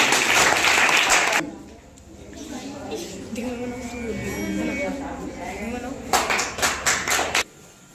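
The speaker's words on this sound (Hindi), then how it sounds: "जोरदार तालियां" Loud applause from a classroom or lecture crowd, a dense burst of clapping at the start, then a quieter stretch with voices, and another brief round of rhythmic claps near the end.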